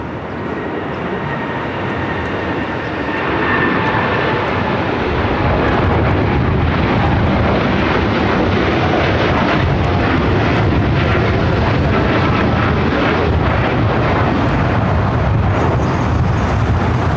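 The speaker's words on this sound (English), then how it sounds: "Looks like a United Dreamliner, rocking and rolling down" A United Airlines Dreamliner takes off down runway 25 right at LAX, its engines building from a rising whine into a loud, sustained broadband roar.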